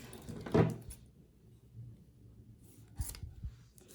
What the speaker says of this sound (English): So I'm just gonna cut this in half.